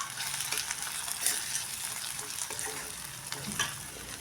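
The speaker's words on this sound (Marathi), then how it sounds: "हे पण तेल सुटेपर्यंत परतून घ्यायचं" Coarsely ground raw peanuts sauté in an oily spice paste, giving a continuous crackling sizzle with scattered stirring clicks and scrapes, moderately loud and close, with no talking.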